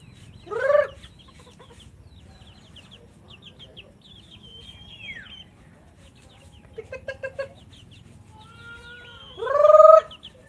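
Chickens cluck and squawk nearby in short, loud bursts separated by quiet pauses, with a few softer clucks between the louder outbursts.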